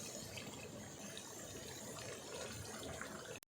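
Water pours in one steady gush into a pot of mutton korma masala for about three seconds, then stops suddenly. The pour is close and moderately loud, and no one speaks.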